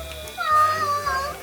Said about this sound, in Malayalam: അവിടെ ഒരു പൂച്ചക്കുട്ടിയെ കണ്ടിട്ട് നിൽക്കുക.